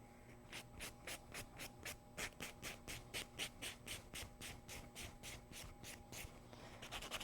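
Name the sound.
buffing a nail surface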